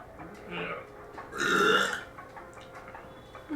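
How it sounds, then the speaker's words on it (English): A man's long, loud, drawn-out burp, close to the mic, rising and fading over about a second, with people talking and reacting around it. "He's going to burp again."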